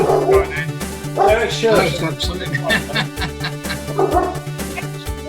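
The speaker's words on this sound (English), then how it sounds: "I've been keeping myself on mute because my dog's a bit loud today" A loud pet dog barks and yips repeatedly from nearby during an online meeting, its sharp calls overlapping with people talking.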